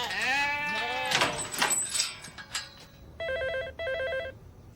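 A sheep bleats loudly up close in a long wavering cry, followed by a second shorter bleat, then a telephone rings twice in electronic trills.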